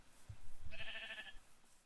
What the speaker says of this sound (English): There's some sheep.